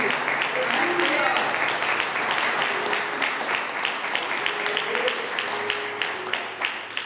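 A church congregation clapping during a sermon, a steady patter with sharper individual claps toward the end, and voices calling out over it.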